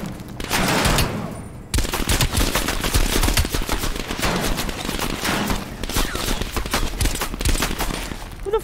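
Rapid, loud bursts of gunfire in the game Call of Duty: Black Ops Cold War crackle almost continuously, with dense rattling volleys and a brief pause early on, in a chaotic firefight.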